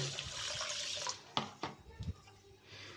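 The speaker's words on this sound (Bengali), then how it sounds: "আবার একটু ধুয়ে নেব ভালো করে।" Running water from a tap washes chicken and rice for khichri, a soft, steady splashing that breaks into a few sharper sloshes and knocks midway before quieting.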